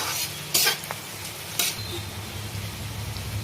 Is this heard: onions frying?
yes